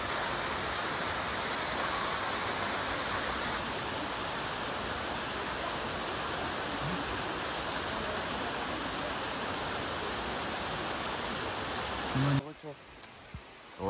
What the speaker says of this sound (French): je pense que vous entendez, ça y est, on est arrivé. Donc c'est la cascade du Nidec.